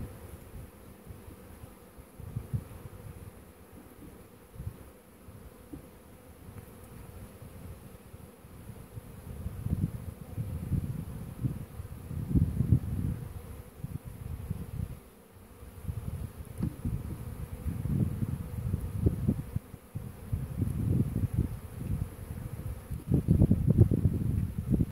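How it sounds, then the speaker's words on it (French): Honeybees buzzing around an open hive in an April apiary, a continuous low drone that swells and fades as bees pass close, with faint rustling and no talk. "j'ai peur d'écraser les abeilles moi."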